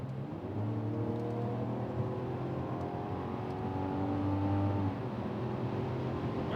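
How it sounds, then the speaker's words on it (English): A Mazda CX-90's inline-six engine pulls steadily under hard acceleration in sport mode, its smooth droning note rising gradually in pitch, close and continuous with no talking. "It is nice smooth power from this inline six. It's a nice engine note."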